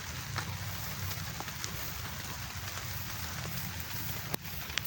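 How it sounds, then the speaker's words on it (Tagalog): Rain falls on a farm during an ampalaya harvest, a steady even hiss of drops with occasional sharper taps, close and continuous, with no talking. "Umuulan."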